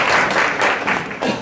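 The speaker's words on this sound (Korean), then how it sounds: "박수 부탁드리겠습니다" Audience applause at a November 2016 Korean venture forum as a company CEO is introduced to present, a dense steady wash of clapping filling the short stretch at moderate loudness.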